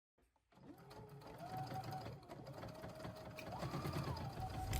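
A sewing machine stitches a binding strip along the bottom quarter-inch seam of a fabric art journaling bag. Its close motor whirs steadily, the pitch rising and dipping as the speed changes, with no talking.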